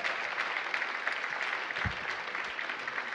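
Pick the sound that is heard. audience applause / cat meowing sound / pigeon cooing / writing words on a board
audience applause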